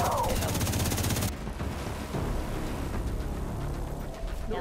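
Rapid bursts of automatic gunfire ring out in Tom Clancy's The Division 2, a dense, loud volley for the first second or so, then continuing scattered shots and clatter from a firefight near a tank, with a voice faintly underneath.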